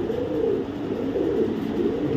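Steady low cooing from several 2021-banded club pigeons, overlapping in a continuous soft murmur with no pauses.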